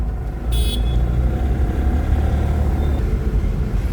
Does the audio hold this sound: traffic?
yes